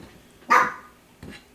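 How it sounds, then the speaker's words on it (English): A tiny 4-pound dog gives one sharp, loud bark followed by a softer second yip, both close by in a quiet kitchen. "There goes my one little dog."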